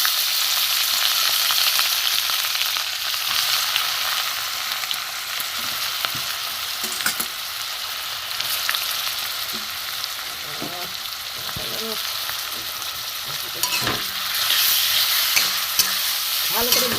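Grated carrots fry in ghee and white oil for a carrot sweet, giving a loud, constant sizzle with intermittent scraping and clinking from stirring throughout, and no talk.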